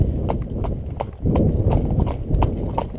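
Hooves of a horse clip-clop steadily in close, even rhythm during foundation training, with a low rumble of movement and a voice speaking faintly underneath.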